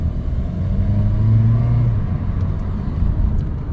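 A 2017 Honda Vezel with cylinder misfires drives under acceleration, heard from inside as a steady, loud low engine rumble that rises briefly before settling, with no voices.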